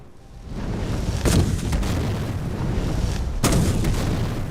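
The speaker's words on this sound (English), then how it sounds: "Moving on from that, we have the Blue Fireball, which is the adept level of blue fire magic." A Blue Fireball spell, the adept-level blue fire magic from a Skyrim mod, goes off as a big area-of-effect blast. Two loud booming bursts rise over a steady rumbling roar, with no voices.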